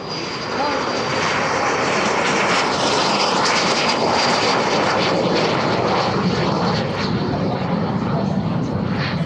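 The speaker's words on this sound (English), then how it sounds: "Bringing the pink jet down the runway is Olga, a highly accomplished aviator with" An L-39 jet trainer roars steadily at close range on a runway at an airshow, a loud broadband engine rush with a thin high whine, holding constant throughout.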